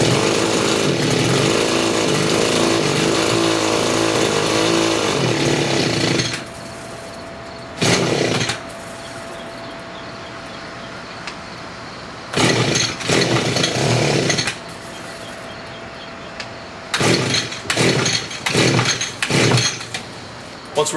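An Echo water pump's small engine is pull-started and runs loud and steady, then cuts out; further sharp pull bursts follow with quieter gaps between them, and a voice is heard under the noise.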